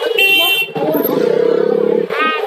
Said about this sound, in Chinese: 摩托车特别多，也特别吵